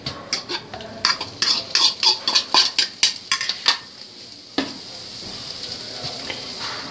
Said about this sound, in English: what we want to do is we just want to just saute this a little, little bit.